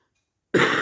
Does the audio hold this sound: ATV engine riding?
no